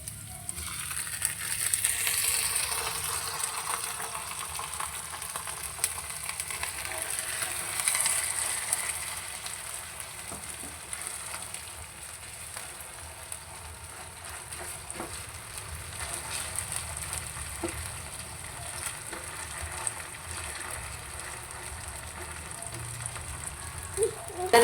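Onion, garlic and canned Century tuna sauté in a pan with a continuous, moderately loud sizzle and crackle, rising and easing slightly over the stretch, with occasional scraping stirs and no talking.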